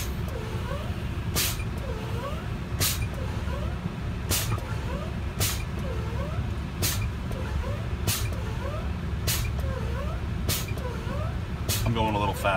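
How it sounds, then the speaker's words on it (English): Truck air brakes being pumped from inside the cab to lower air pressure: a steady run of about nine sharp, evenly spaced hissing releases over a constant engine rumble, close and fairly loud. "I'm going to pump my brakes, lowering the air pressure."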